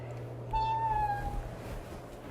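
A person imitates a cat's meow with a single drawn-out, rising-then-falling mew, fairly close and clear over a steady low background hum.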